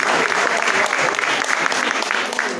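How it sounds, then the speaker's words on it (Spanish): Audience at a live chamamé concert in Eldorado, Misiones clapping loudly and continuously, a dense, even wash of applause close by with a faint crowd murmur underneath. "Muchísimas gracias por los aplausos."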